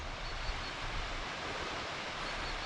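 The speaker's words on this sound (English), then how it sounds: "lovely waterfall." A waterfall on a beck near Stonethwaite rushes in a broad, continuous roar, close and steady, with no voices or other sounds breaking through.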